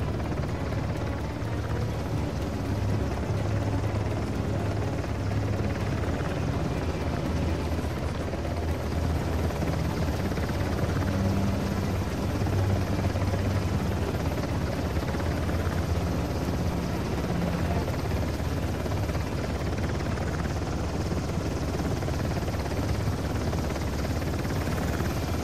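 Helicopter flying in the video game Uncharted: The Lost Legacy, a continuous loud rotor roar that holds steady and unbroken throughout, with no talk over it.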